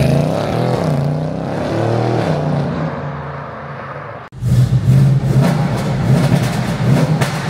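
A notably loud Audi S7 engine roars continuously at high volume, dipping briefly before surging back into a harder, louder rev that holds to the end, with no voices over it.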